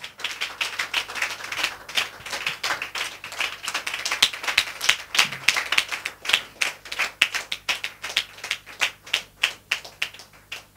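Congregation clapping during a church service, a steady rhythmic beat of many hands close and lively, growing into crisp, evenly spaced claps toward the end.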